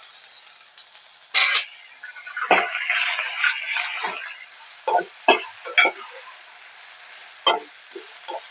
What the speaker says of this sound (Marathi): आता टोमॅटो पण आपण भाजून घेत आहोत